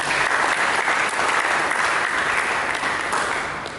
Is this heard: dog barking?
no